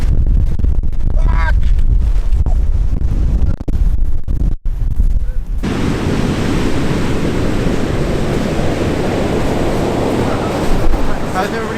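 Strong wind batters the microphone on a black-sand Iceland beach during a hailstorm, the roar swelling into a dense, continuous noise of hail and gusts, with speech breaking through early on.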